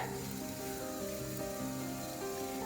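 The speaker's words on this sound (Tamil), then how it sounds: "இது நல்லா இப்போ நம்ம ரோஸ்ட் பண்ண போகிறோம் அந்த 1 டீஸ்பூன் ஆஃப் ஆயிலில்" Asafoetida roasting in a teaspoon of oil gives off a steady, close sizzle that holds evenly throughout, with no voices over it.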